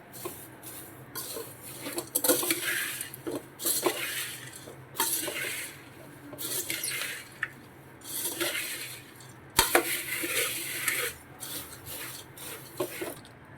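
Puffed rice (mamra) and fried peanuts are stirred in a pan, making repeated close rustling, scraping strokes with light metallic clinks, steady and without speech.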